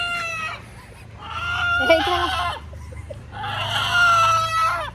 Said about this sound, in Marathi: चला कोंबडा तर बघा